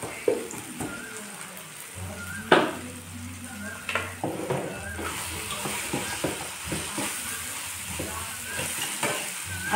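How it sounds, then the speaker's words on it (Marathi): Green brinjal chutney sizzling and frying in a pan, with a spoon stirring and scraping in uneven strokes; steady close-up sizzle with occasional sharp clinks against the pan, no talk. "आणि मस्त फ्राय होऊ द्यायची, शिजू द्यायची याच्यामध्ये"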